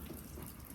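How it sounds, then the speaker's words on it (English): Water is poured steadily over the outside of a 2004 Renault Clio, giving a continuous, close splashing and trickling wash with no break. "we're going to put water on the outside, and then that should come through"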